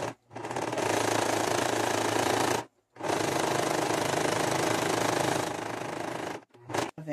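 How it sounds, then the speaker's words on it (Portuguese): Sewing machine running steadily as it stitches a decorative rose herringbone seam, two long continuous runs of dense mechanical whirring broken by brief pauses, close and loud with no talking. "vamos fazer uma costura decorativa. Vou usar o ponto espinho de rosa pra gente fazer esse projeto."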